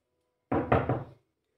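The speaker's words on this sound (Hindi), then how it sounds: "तभी किसी ने दरवाजा खटखटाया।" Several quick, solid knocks on a door sound close by in a short burst against an otherwise silent background.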